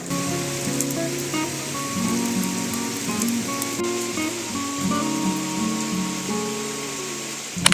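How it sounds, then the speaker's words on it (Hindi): Steady rain falls without a break in a village, a dense hiss of drops on hard surfaces, close and fairly loud, with no voices. "मतलब ये बारिश चलेगी बस आधे घंटे के लिए"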